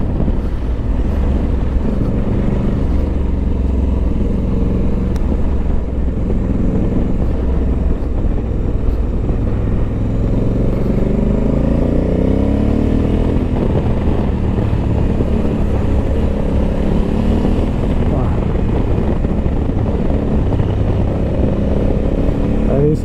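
A 2023 Honda Africa Twin Adventure Sports with a DCT gearbox riding on an expressway: a constant loud engine drone with rising and falling revs and heavy wind rush, without a break.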